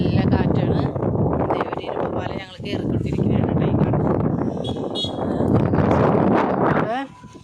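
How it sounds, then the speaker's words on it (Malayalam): Strong wind buffeting the microphone in a steady roar near a bridge at Enamavu, Thrissur, with people talking over it throughout. "നല്ല കാറ്റുണ്ട് ഇവിടെ"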